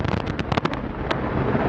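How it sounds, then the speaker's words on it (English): Antares rocket lifting off carrying the Cygnus spacecraft on the Orb-3 cargo mission, a loud broadband roar with sharp crackling bursts through the first second, steady and continuous throughout. "And we have liftoff of Antares with the Orb 3 mission delivering Cygnus on its third CRS mission to"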